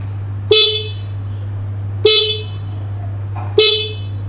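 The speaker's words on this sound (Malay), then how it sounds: "bila kita tekan horn" A horn on a vehicle fitted with a spotlight is pressed three times, giving three short, loud, evenly spaced honks over a constant low electrical hum.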